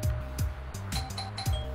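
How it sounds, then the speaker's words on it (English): A doorbell in the Roblox game RoCitizens sounds as a brief series of bright electronic chimes and clinks, close and clear, with no talking. "I'm gonna ring the doorbell"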